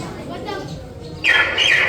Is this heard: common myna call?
yes